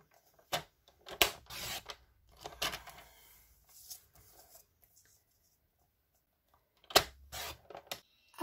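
Scissors cutting decorative paper into triangles for a pop-up card, a few quiet separate snips and rasps in short bursts, with pauses of near silence between them.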